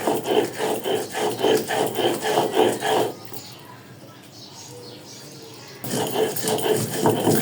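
Spices for biryani are ground by hand on a grinding stone, a loud rhythmic back-and-forth rasping close by that stops partway and then resumes.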